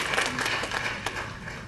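A convention audience at Dragon Con claps for Rick Goldschmidt: a dense, steady wash of many hands applauding close by, with no pause through the short burst.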